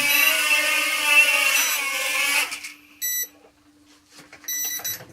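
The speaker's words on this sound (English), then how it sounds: "And it continues to beep, and you can just press the button again, and it'll stop beeping" A steady high-pitched whine cuts off, then short electronic beeps sound twice, separated by a quiet pause.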